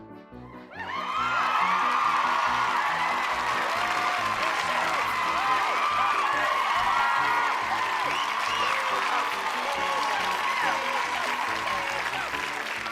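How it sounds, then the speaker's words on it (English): A studio audience erupts in sustained cheering and applause after a brief quiet start, with a dense wash of clapping and excited shouts holding steady and loud for over ten seconds. "Audience, can we get a cheer for Amity?"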